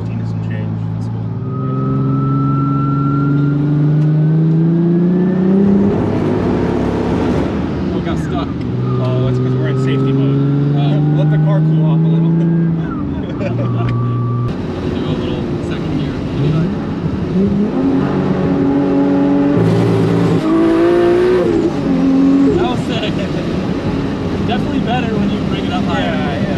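A single-turbo BMW 335i engine revs repeatedly, rising and falling in several loud, close pulls with audible turbo whine on top, while people talk nearby between and over the revs.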